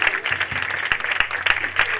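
A church congregation applauds enthusiastically, with sustained dense clapping under a speaker's voice.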